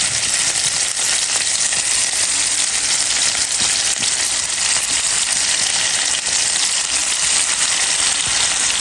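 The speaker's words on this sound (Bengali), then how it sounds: "তো এখন ইলিশ মাছ ভাজবো।" Hilsa fish fries in hot oil with a loud, close, continuous sizzle and crackle that holds steady throughout, with no voices.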